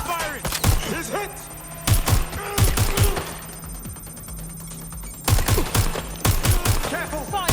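Rapid automatic gunfire from the video game Watch Dogs: Legion comes in several loud close bursts separated by short pauses, with voices talking between the volleys.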